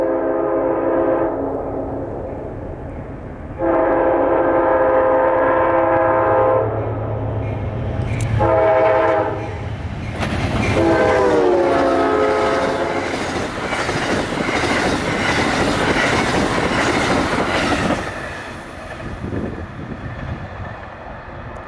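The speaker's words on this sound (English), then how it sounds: "That was Amtrak 141 flying east." Amtrak 141 passenger train racing eastbound past the listener, horn blaring in several long blasts before a loud rushing roar of wheels and cars with clickety-clack and faint squeal dominating the rest.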